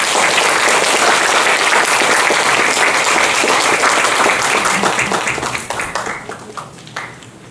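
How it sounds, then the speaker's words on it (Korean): Loud, sustained applause from an audience at an academic conference, filling the room and then thinning and fading out over the last couple of seconds. "큰 박수 부탁드립니다."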